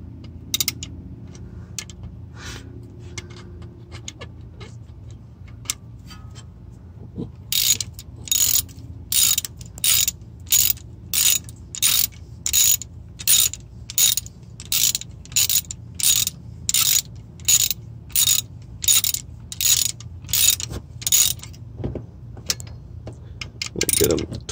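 A ratchet tightens the bolts on a car's crankshaft position sensor, starting with a few scattered clicks and then settling into a long, close, rhythmic run of crisp pawl clicks over a low engine-bay hum.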